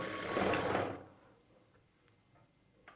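A sewing machine stitches blouse cloth in a short loud whirring burst that stops abruptly after about a second, followed by near silence with faint ticks.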